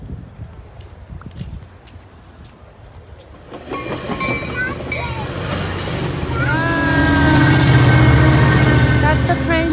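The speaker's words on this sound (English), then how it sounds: "That's the train that hubby would take." A train rumbles past, its clattering wheels and squealing rails swelling louder as it nears, with faint voices underneath.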